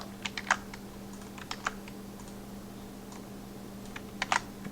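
Keystrokes on a computer keyboard at close range in short clustered bursts with pauses between, crisp light clicks over a faint steady hum, no talking.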